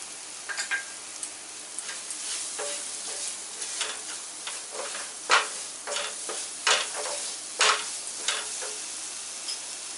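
Boiled potatoes being mixed with roasted cumin powder, chaat masala and black salt for aloo chaat, giving close, irregular scraping and stirring strokes with no talking.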